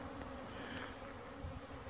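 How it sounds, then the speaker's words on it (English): Honeybees buzz around backyard beehives in early March, a steady, dense swarm drone that stays fairly faint and continuous with no talk. "look at them bees right yonder"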